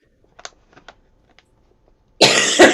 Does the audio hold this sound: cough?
yes